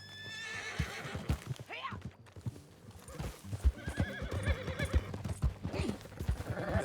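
A horse in Red Dead Redemption 2 whinnies loudly near the start and again later, while its hooves clip-clop in an irregular rhythm throughout, close and prominent, with a few other snorts and game sounds.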